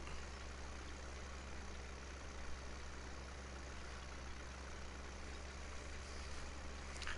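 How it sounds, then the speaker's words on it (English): Low, constant engine rumble from a tractor in the video game Mustang Valley, quiet and monotonous, holding the same level from start to finish without pauses or revving. "Come on, tractor, push it"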